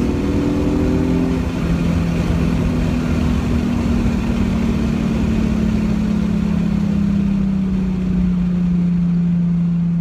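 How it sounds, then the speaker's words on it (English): A 2010 Nissan 370Z engine accelerating after a downshift, a loud, steady mid-pitched drone close by whose tone slowly drops as the car pulls on through the gear. "you just downshift from 6 to 4th. It flies"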